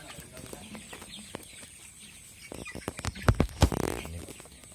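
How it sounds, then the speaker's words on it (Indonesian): Free-range village chickens in a wide 5 by 12 coop on a poultry farm, clucking intermittently at close range over faint background noise, with a louder burst of clucks near the end. "tampak dekatnya ayam"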